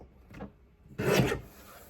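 A paper trimmer slices a printed paper rectangle in a craft kit, giving a faint scrape followed by one louder, close rasping cut lasting about half a second.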